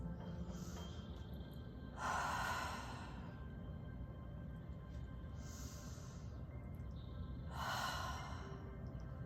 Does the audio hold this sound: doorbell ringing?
no